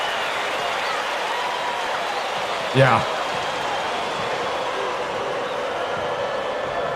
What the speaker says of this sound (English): This crowd Is he hurt? can't be any happier. Just listen to the people in this building.